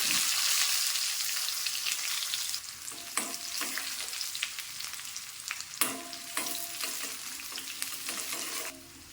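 Shallots and popped mustard seeds sizzle and fry in coconut oil for a Kerala cucumber pachadi, a steady close hiss broken by stirring scrapes and sharp crackles.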